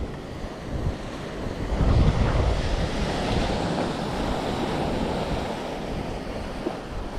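Rough sea surf at the beach in Playa del Carmen at 6th Street, a steady roar of breaking waves mixed with gusty wind buffeting the microphone, with no voices.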